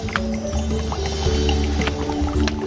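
Near, continuous gurgling and lapping of water at a big clear spring in a traditional Central Java village, with small splashes and drips and faint voices in the background.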